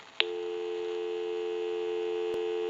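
A steady busy signal tone heard on a Western Electric 302 rotary desk telephone holds without a break after a short click, clear and close, with a brief tap near the end.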